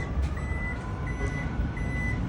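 The powered automatic boot of a Toyota Prado J250 opens with a series of evenly spaced high electronic warning beeps over a low steady mechanical hum, moderately quiet and without talk.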